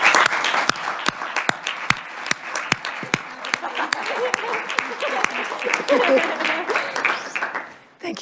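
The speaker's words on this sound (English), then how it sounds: "They do deserve a tremendous round of applause." A crowd applauds at a Senate Committee on Education hearing, a dense, steady wash of clapping with sharp individual claps standing out near the start, sustained and loud for about eight seconds before fading at the end.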